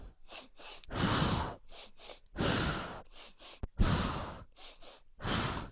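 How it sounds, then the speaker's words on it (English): Rhythmic breathing: quick sniffs in followed by a longer blow out, repeated in a steady pattern, close and clear with no talking. "Sniff, sniff, blow"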